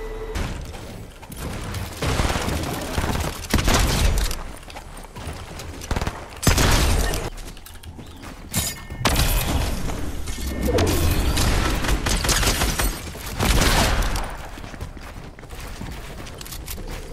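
Sustained gunfire from a squad battle in Fortnite Reload crackles nearly nonstop, dense bursts and volleys layered with impacts and whooshes, loud and close throughout.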